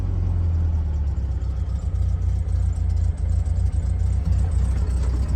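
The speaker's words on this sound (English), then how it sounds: "unmistakable sound of a Volkswagen air-cooled engine" A 1973 VW Karmann Ghia's air-cooled Volkswagen engine idles close by with a steady, low, throbbing rumble and a slightly uneven beat, continuous throughout with no talking.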